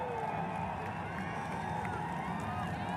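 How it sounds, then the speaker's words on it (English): A large, excited crowd of about 10,000 fans in Saluki Stadium during a solar eclipse makes a steady, distant roar of overlapping voices and cheering, with a nearer voice speaking over it. "You hear the crowd. Everybody's excited."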